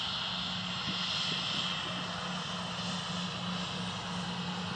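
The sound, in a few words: TUI aircraft at Manchester Airport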